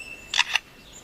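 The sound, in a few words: bird mimicking a camera shutter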